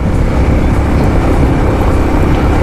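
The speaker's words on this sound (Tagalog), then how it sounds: "Ayan, 100cc umaahon." A 100cc motorcycle engine strains loudly and steadily while climbing an uphill road, with a continuous drone and rush of wind heard close up throughout.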